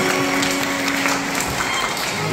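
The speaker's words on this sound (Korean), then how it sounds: "박수 올려주십시오." Guests at a wedding ceremony in a chamber hall applaud in a dense, continuous wash of clapping that stays steady and fairly loud throughout the short stretch.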